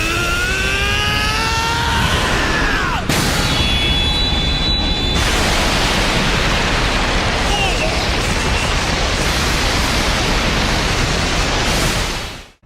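An anime boxing punch from Hajime no Ippo that roars like a jet plane: a loud sustained rushing whoosh with a rising whine at the start, a sharp cut near three seconds, then steady roaring noise that fades at the end.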